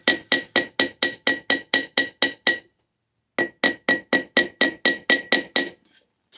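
Hammer striking a mokume gane metal bar during jewelry forging, a fast, even series of sharp ringing metallic blows, ten in a row, a pause, then about nine more, close and loud, no talking.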